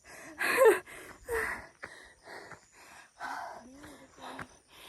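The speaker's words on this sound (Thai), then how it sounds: "ก็คือตอนนี้หอบมาก" A hiker in the Tenasserim mountains on the Thai–Myanmar border pants heavily after the climb, with a run of loud, close gasping breaths and sighs in uneven bursts.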